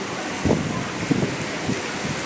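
Heavy rain pours down steadily with gusty wind in a storm, a dense wash of noise with several louder surges as the downpour intensifies, no talk over it.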